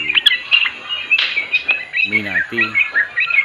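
A sooty-headed bulbul (trucuk) sings bright, bubbly chirps and short whistled phrases close by, loud and repeated, while someone speaks over and between the calls.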